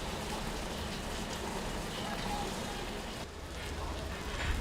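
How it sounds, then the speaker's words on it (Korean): Steady rain pours on an overcast morning on a weekday at Wolmido, forming a continuous broadband hiss with a low rumble beneath it, moderately loud and unbroken for the whole stretch. "아침부터 하늘이 진회색으로 내려앉더니 기어이 비가 내리는데요"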